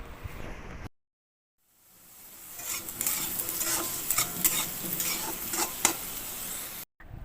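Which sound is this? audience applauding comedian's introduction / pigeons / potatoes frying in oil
potatoes frying in oil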